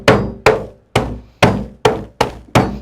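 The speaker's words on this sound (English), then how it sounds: "let's go ahead and break our ice up" A hammer strikes a block of dry ice to break it into smaller chunks. Seven sharp, loud, evenly spaced whacks ring out, each decaying quickly, with no talking.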